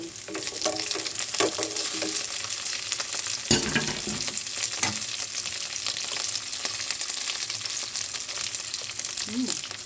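Dried shrimp and siomai frying and being stirred in a pan with sponge gourd, a close, steady sizzle broken by scraping and clattering stirs throughout.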